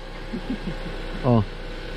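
Used car for sale in Canada idling smoothly without knocking, a low steady engine hum running throughout while a person briefly talks over it.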